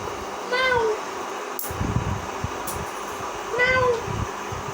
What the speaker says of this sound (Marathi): मांजर म्याव म्याव